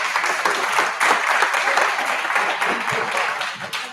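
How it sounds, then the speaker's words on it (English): A historical society meeting audience gives a round of applause, a full, continuous crowd clapping that stays strong and begins to fade in the final moments. "let's give her a round of applause."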